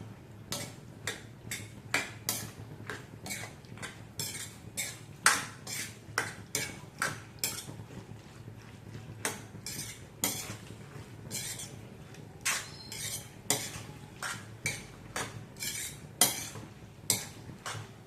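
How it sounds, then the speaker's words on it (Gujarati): Pre-boiled pasta is stirred in a pan: a quiet, irregular series of metallic clinks and scrapes from a utensil against the pan, repeating over and over with no voices. "હવે આપણે ફટાફટ એમાં પાસ્તા એડ કરી દઈશું, જે આપણે ઓલરેડી પહેલેથી બોઇલ કરીને રાખ્યા હતા."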